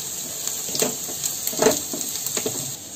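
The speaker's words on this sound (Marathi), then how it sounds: "आता हे थोडे फ्राय करून घ्यायचे." Long carrot strips fry in a pan with a soft, steady sizzle. A few brief clinks and stirring scrapes sound close by, and no one speaks.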